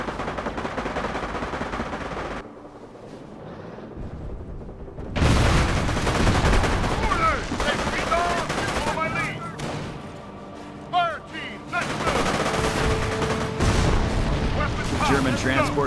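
Battle gunfire in the WWII Normandy campaign of the video game Company of Heroes: Tales of Valor, with dense bursts and booms forming a loud, continuous barrage that briefly drops away before erupting again, under shouted voices.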